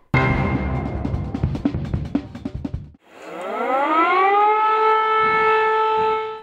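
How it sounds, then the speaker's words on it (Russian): A civil defense warning siren at a nuclear power plant, sounding a rising, wailing tone that climbs and then holds steady and loud, preceded by a few seconds of other, choppier sound. "Сигнальную сирену услышат зареченцы в среду в 11:30."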